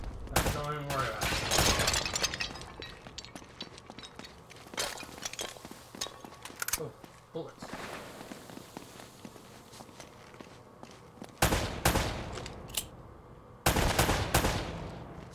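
Gunfire in the Uncharted video game aboard a Nazi boat: bursts of rapid machine-gun fire and single loud shots, with sharp impacts, shattering and running footsteps, some near and some distant, and voices talking across the action.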